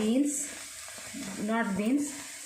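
Carrot, capsicum and chilies hit a hot pan for rice noodles, setting off a steady close sizzle with short crackles, partly under a speaking voice.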